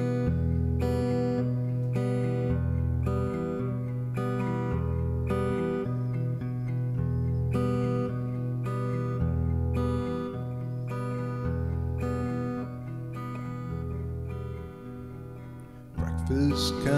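A live song performance at a home concert in Brussels, with steady rhythmic instrumental backing and a sung melody carrying on continuously at moderate level, ending with a brief louder burst.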